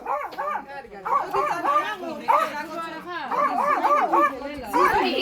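A large dog barks repeatedly in short bursts amid lively voices and children's chatter, with a high whimpering yip near the end.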